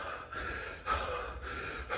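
A voice imitates the heavy breathing of an excited poker player, with quick, forceful breaths in and out repeating in a steady rhythm, close and fairly loud.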